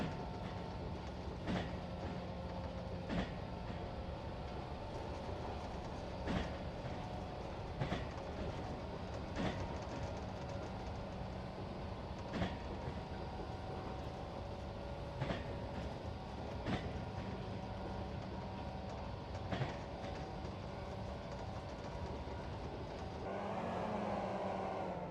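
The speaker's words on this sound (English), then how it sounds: "I was literally looking at the train going over the bridge." A train rolls steadily over a bridge some distance away, with a continuous low rumble and regular clacking wheel beats spaced a couple of seconds apart, fairly faint throughout, and a brief swell of other noise near the end.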